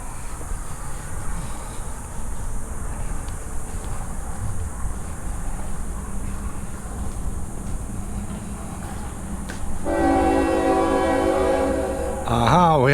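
A passing train sounds its horn from below in open desert terrain near Yuma, Arizona, a steady rumble building to loud, sustained harmonic horn blasts in the final seconds, with wind noise throughout and no talk.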